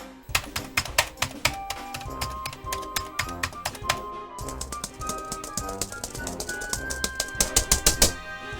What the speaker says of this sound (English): the Commodore 64 keyboard has a more satisfying typing sound